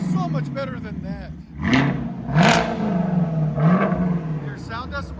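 2022 Chevy Camaro LT1 V8 with an MBRP cat-back exhaust, blipped in a few sharp revs that rise and fall over a loud, close burble, with people talking and exclaiming over it.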